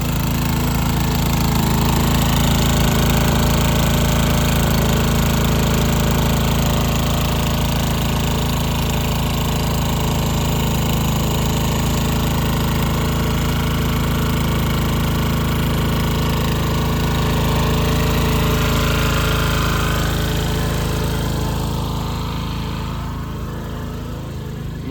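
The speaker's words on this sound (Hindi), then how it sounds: "तो ये हमारा इंजन भी स्टार्ट हो गया है।" A village engine used for watering crops runs steadily, a loud, continuous, close drone with a rough mechanical rumble that eases slightly near the end.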